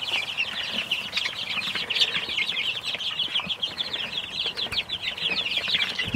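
Chicks, including barred rock chicks, peep continuously in a busy overlapping chorus, close and fairly loud, with some soft wing flutters mixed in.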